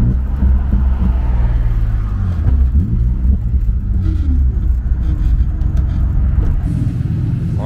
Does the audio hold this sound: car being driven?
yes